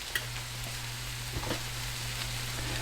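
Fillings for plant-based sausage, egg and bean breakfast burritos warm in a pan with a soft, steady sizzle and a few faint clinks and stirring sounds, with no talking.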